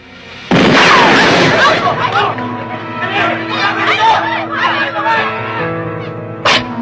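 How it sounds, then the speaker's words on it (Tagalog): A single gunshot goes off abruptly near the start in a residential setting, followed by loud agitated crowd chatter and shouting, with another sharp burst near the end. "Doon galing ang putok kay Lamang Piping"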